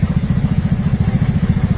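A big bike motorcycle engine runs close by in Dampas, Tagbilaran, Bohol, with a loud, rapid, throbbing low pulse, steady throughout the short stretch.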